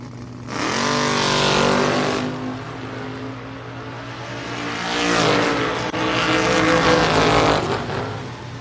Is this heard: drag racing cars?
yes